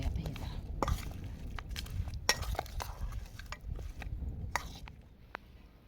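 Chicken and tomato pieces are stirred together in a pan, with scattered soft clinks and scrapes of a utensil against metal at close range, fairly quiet and irregular.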